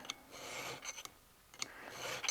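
A smooth-sided hand file rasps in short, quiet strokes along the metal of a rebuilt 1911 pistol, making small chamfers, each pass a soft scratchy sweep close by.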